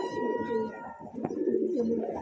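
A big-sized Deobandi Phoolsira breeding pigeon pair cooing close by, soft throaty coos rolling on and off with one short sharp click in the middle.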